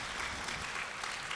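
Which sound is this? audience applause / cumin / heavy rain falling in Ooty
audience applause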